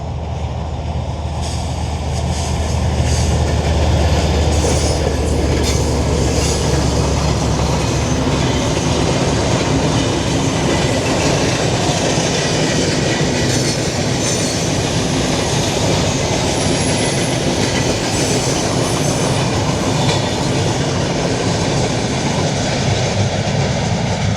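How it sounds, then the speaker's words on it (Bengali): A large train rumbles past close by on the railway line at Konabari, Gazipur, a steady loud roar of wagons with metallic rail clatter and occasional wheel squeal. "এই যে আর একটা ট্রেন আসতেছে"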